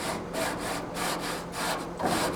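A nylon brush scrubs residue off hot grill grates in quick, rhythmic back-and-forth strokes, close and fairly loud, with no talking.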